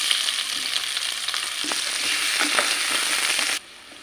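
Tomatoes and spring onion stir-frying in hot oil, a dense continuous sizzle with scattered scraping stirs from a spatula, close and loud, cutting off abruptly near the end.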